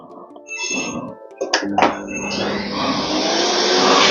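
A vacuum cleaner powered by an AFERIY 1200W portable solar generator switches on after a few beeps and clicks, its motor rising into a loud, steady whooshing hum close by.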